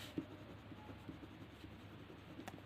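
Handwriting during a physics lesson on momentum, a pen or chalk scratching softly in short strokes, faint and close against a quiet room hiss, with no talking.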